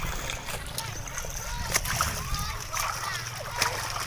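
Water splashes and sloshes as laundry is rinsed and people bathe in a clear provincial river, with steady close splatter and a voice talking over it.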